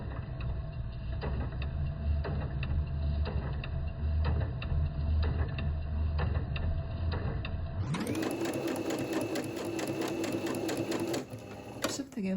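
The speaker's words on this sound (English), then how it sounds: "I'm going to sew with my regular 5mm zigzag stitch" A domestic sewing machine fitted with an edging foot sews a 5mm zigzag stitch, giving a steady rapid mechanical clatter with rhythmic needle beats; partway through the sound shifts to a higher, whining motor tone before stopping near the end.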